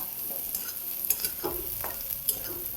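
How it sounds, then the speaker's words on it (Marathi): Onion frying in a pan for matki bhaji, a continuous close sizzle broken by a few scraping stirs of a spoon, with no one talking. "असा कांदा मिक्स करून घ्यायचा लालसर वाहीवर जरा भाजायचा"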